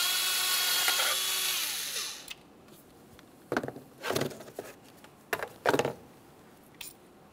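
A 10mm mounting bolt on the ignition coil of a 2010-2013 Kia Forte Koup 2.4L is loosened with a tool: a steady whirring run of about two seconds, then a few sharp, isolated clicks and taps close by.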